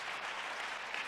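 Steady, dense applause from a church congregation fills the space, continuous and fairly distant, without a break from start to end.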